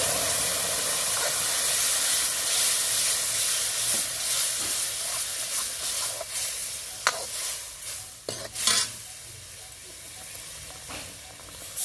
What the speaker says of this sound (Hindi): तो अब इसमें हम डाल देते हैं ये टमाटर मिर्च का पेस्ट।